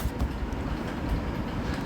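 Rolling rumble of a train in the Indian Vehicle Simulator game, a continuous low clatter of wheels on rails with no speech.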